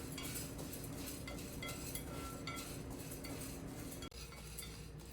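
Tur dal and chana dal dry roast in a pan on the stove, with constant scraping and light clinking from a spatula stirring the lentils against the metal over a steady background hiss, close and without talk.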